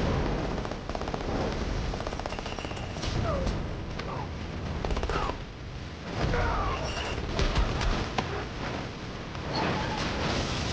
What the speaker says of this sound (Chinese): 而这时军方又一次派出直升机到处乱轰。